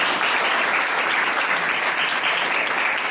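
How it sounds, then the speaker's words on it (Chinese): A church congregation breaks into loud, sustained applause, many hands clapping in an even, continuous roar heard up close with no gaps. "掌声献给神"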